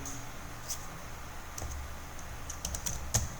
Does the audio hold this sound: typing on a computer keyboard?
yes